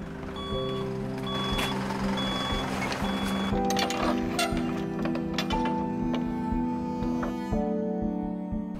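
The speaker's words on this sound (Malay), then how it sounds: "Macam lori masuk je." A lorry's reversing alarm beeps steadily in a regular rhythm over a rumbling engine, with some clanks and knocks nearby.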